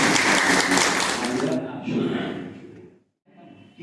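Applause at a farewell ceremony for a village panchayat secretary, loud broadband clapping that fades after about a second and a half into voices, then a brief silence.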